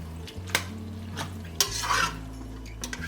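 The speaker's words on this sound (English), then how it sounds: "I'm going to just stir this in" A spoon stirs low-fat Mexican-style cheese blend into a dish, giving close scraping and clinking strokes against the pan at irregular intervals over a low background hum, with no talking.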